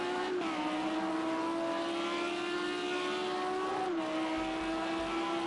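A number 28 Audi R8 race car in Project CARS 2 at Circuit Zolder, its engine droning steadily at high revs with a shift near the start and another around four seconds, loud and continuous without any talk.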